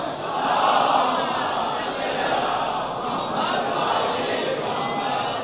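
A large crowd at an Eid e Ghadeer religious gathering recites salawat together, a loud, sustained wash of many voices swelling and holding in unison, with no single voice standing out.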